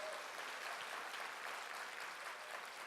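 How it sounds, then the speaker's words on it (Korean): A church congregation applauds the MC team during a Sunday service, a steady wash of clapping that sounds faint and distant. "지금 한번 박수 한번 쳐줄까요, 우리 MC단?"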